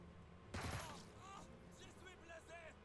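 Gunfire in the tactical video game Jagged Alliance 3, a single sharp burst of shots as a soldier fires at a grenadier, followed by a voice commentating over faint game sounds.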